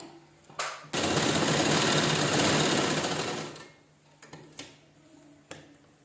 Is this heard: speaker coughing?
no